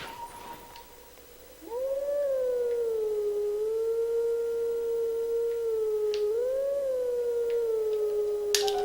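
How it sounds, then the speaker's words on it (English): In the Twilight Princess video game, a wolf howling song rings out as a pure, sustained, sine-like howl. It starts after a short quiet stretch and slides smoothly up and down in pitch, holding steady for several seconds. "I hate failing this howling song."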